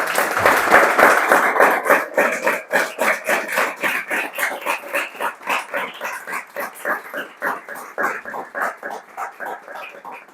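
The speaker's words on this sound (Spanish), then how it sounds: "Le damos un aplauso, José." An audience at a lecture claps for the speaker, loud at first then thinning into a slower, rhythmic unison clapping that fades toward the end, no talk over it.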